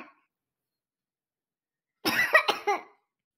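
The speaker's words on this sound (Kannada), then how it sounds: "ದ್ರಾಕ್ಷಿ ತಿಂದು ಕೆಮ್ಮುನೂ ಬರ್ತಾ ಇದೆ ನೋಡು" A child coughs after eating grapes: a short burst of two or three close coughs following a silent pause.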